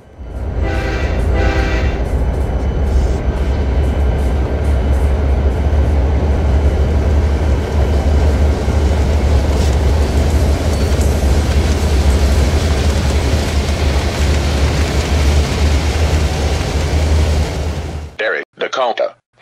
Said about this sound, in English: Alan and Peter, you will take a freight train to New Jersey